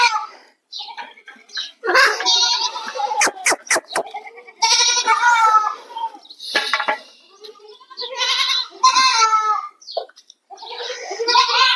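Goats and young kids bleat over and over, loud and close, overlapping calls with a few sharp clicks between them.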